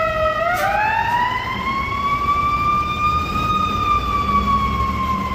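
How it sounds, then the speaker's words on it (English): An ambulance siren wails loud and steady as it passes through the State and Division intersection on a Chicago street, its tone sweeping up then holding high over a constant rumble of city traffic. "Here comes an ambulance."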